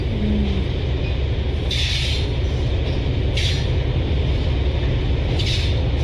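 Locomotive running on a railway line, a loud steady rumble and roar filling the whole stretch, with a few brief hissing bursts rising above it.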